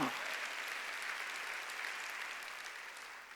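Congregation clapping during a Sunday church worship service, a steady, dense wash of many hands applauding together, fairly faint and distant, holding evenly throughout without a break.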